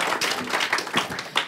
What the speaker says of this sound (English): Let's applaud to each other.